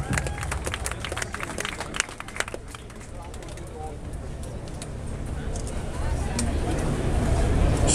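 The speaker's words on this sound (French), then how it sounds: "On va l'applaudir encore une fois" A large outdoor crowd on the Champs-Élysées applauds cyclist Marcel Kittel at the Tour de France, steady dense clapping and cheering that swells louder toward the end, with an announcer's voice over it.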